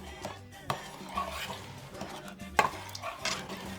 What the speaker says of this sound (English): we're gonna start stirring all this in there together